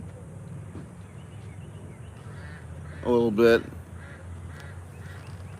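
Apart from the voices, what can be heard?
geese honking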